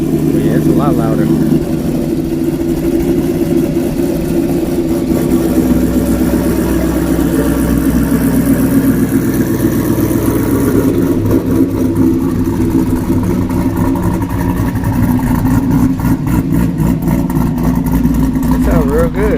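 Cammed Pontiac G8 with a Stage 3 cam idles with a loud, steady, lumpy low rumble that holds the whole way through, with people talking faintly over it.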